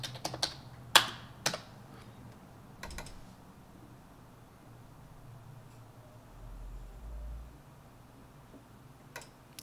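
Fast bursts of typing on a computer keyboard while searching a sound library for Kontakt, several quick clusters of key clicks in the first few seconds and then a lone keystroke near the end, close and crisp over a quiet room.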